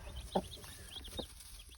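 Little farm chicks heading into winter let out faint, high cheeps in short bursts over a low background hum.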